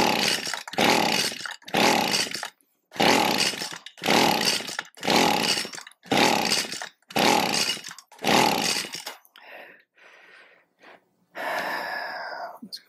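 A Stihl string trimmer with its choke open being pull-started, about eight rhythmic bursts of pull-cord effort separated by short silences, followed by quieter handling noises.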